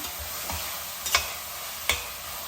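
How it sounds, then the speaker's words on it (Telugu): Ginger-garlic paste frying in a pan, a steady close hiss with a few distinct scraping stirs of a spoon against the metal, no voices. "ఈ అల్లం వెల్లుల్లిపాయ పేస్ట్ పచ్చివాసన పోయే వరకు ఇలా దగ్గరుండి వేయించుకోవాలి"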